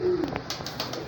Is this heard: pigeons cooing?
yes